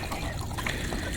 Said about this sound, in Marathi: अरे वॉटरफॉल बघा, वॉटरफॉल